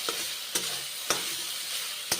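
Pointed gourd (potol) frying with spices in a pan, a steady close sizzle broken by three sharp spatula scrapes as the pieces are stirred, no voices.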